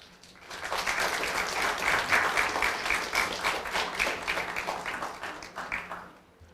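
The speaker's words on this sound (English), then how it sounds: "give your family and friends, those people who are part of your support crew, a good round of applause" A graduation ceremony audience applauds steadily, the dense clapping swelling quickly and holding for several seconds before gradually thinning out.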